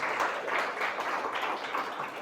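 Church congregation applauding in praise, a dense wash of clapping from many hands holding steady for a couple of seconds without a break.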